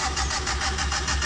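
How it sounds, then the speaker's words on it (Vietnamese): A 1993 Suzuki Super car that has sat unused for a long time cranks and catches, its engine churning in a steady pulsing rhythm up close, loud and alone. "Đây chiếc Suzuki Super đời 93. Đang nổ máy để chạy về."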